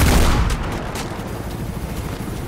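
Gunfire in the first-person parkour game Mirror's Edge: a loud burst of shots at the start, then a rumbling, fading tail, heard with no talking.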